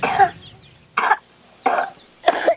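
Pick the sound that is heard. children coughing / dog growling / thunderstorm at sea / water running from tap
children coughing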